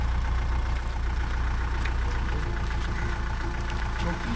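A JCB 3DX backhoe's diesel engine runs steadily and close by with a heavy low rumble throughout, while voices shout over it during loading work.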